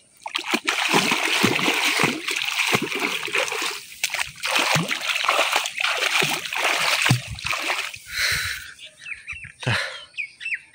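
Feet are washed by hand in a village pond, making repeated close, bright splashes and sloshing water in irregular bursts, with birds chirping in the background.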